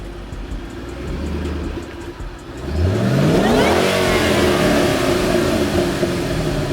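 A Shelby GT500 Mustang revs hard, its engine climbing from a low rumble into a rising, sweeping tone with a high supercharger-style whine riding on top, loud and close, then settling into a steady elevated idle.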